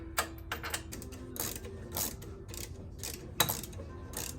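Ratchet turning a 3/8 Allen socket on a Harley-Davidson fender bolt, giving quick bursts of close mechanical clicking with a few sharper clacks spread irregularly across the stretch.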